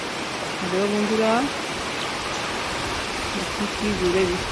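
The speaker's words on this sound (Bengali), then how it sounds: "খুবই জোর বৃষ্টি হচ্ছে এখন" Heavy storm rain falls hard outside a house during thunder and lightning, a steady dense hiss throughout, with a voice briefly calling out over it and again near the end.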